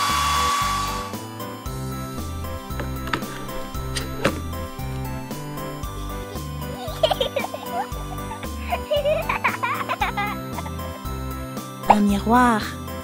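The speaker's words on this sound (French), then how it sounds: "Un sèche-cheveux." A toy hair dryer from a baby doll accessory set whirs with a short airy hiss at the very start, then gives way to bright background music with scattered clicks and tones.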